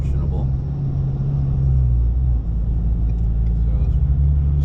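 A 2022 Ford Maverick MRT with a dual-tip street exhaust cruises at highway speed under light load, giving a steady, deep, close rumbling drone that holds unbroken throughout.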